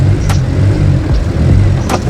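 A Daihatsu Mira car on its first drive after a build, accelerating under a steady low engine drone with a couple of brief higher bursts, close and fairly loud, no talking.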